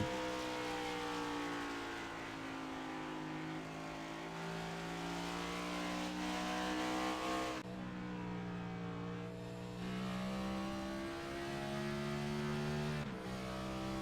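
Cup Series race cars driving at Gateway, a steady loud engine drone with rising and falling pitch as the cars accelerate and shift, continuous throughout with no talking.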